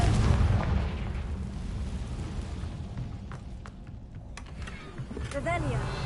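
A booming blast from the Confringo spell in Hogwarts Legacy, loud at the start and then fading into a rumbling tail as a voice speaks over it.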